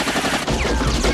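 Gunfire in the 1993 action movie Hard Target: a loud, dense burst of rapid shots and impacts filling the whole moment, with a sharp crack near the middle and no voices.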